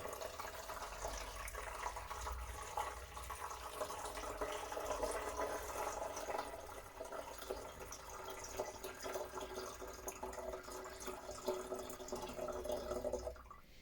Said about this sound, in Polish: Teraz lejemy normalnie wodę.